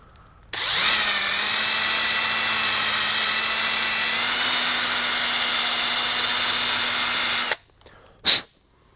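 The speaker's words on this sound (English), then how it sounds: "I'm going to take this sanding roll and I'm just going to clean up a little bit of the powder coat" A power sanding roll whirs at a steady high pitch for about seven seconds, up close, cleaning powder coat inside a fitting, then stops, followed by a brief quieter burst.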